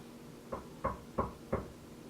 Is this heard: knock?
yes